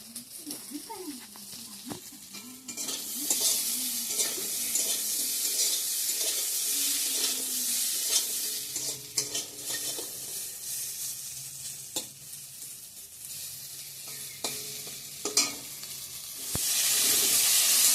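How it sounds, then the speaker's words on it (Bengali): Bitter gourd frying in a pan, a constant sizzle and hiss broken by repeated scraping stirs, fairly close, with a person talking over it. "তো এদিকে করলা ভাজাটা করে নিচ্ছি।"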